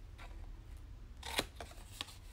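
Scissors snip corner squares off a paper card project in a few quiet, close-up cuts with small crisp clicks, and no one speaks.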